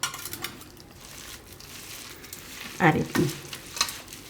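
A spoon stirs rose petals into sugar in a bowl to make gulkand, with soft scraping and a couple of sharper clinks near the end; a voice briefly speaks.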